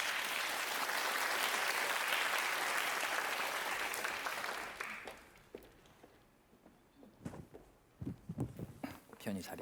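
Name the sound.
audience applauding as the artist comes on stage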